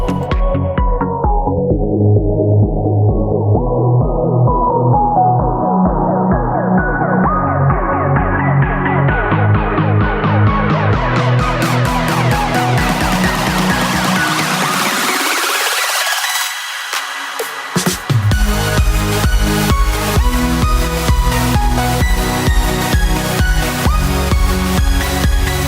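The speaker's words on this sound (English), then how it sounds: "And then just add some like bass chords on that" Thick synthesizer bass chords in a progressive house track build under a long rising filter sweep that pulls all the sound upward, drops out briefly, then returns full and loud with a pulsing beat.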